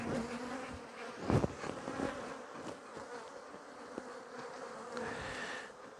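Honeybees buzzing around an open hive frame during a quick check, a continuous close, soft swarm hum with brief louder passes of individual bees.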